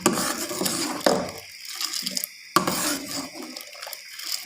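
Milk with a few spoonfuls of khoya stirred in a metal pot, giving loud scraping and clinking of the spoon against the pot with brief pauses between strokes, no talk.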